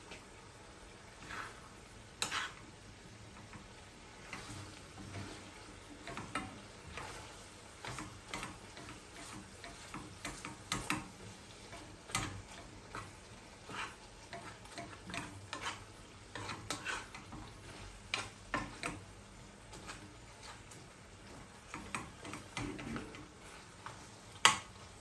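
Sautéed shrimp paste and pork with vinegar being stirred in a pan, a soft steady sizzle broken by frequent sharp clicks and scrapes of the utensil against the pan, close and unbroken, with no speech.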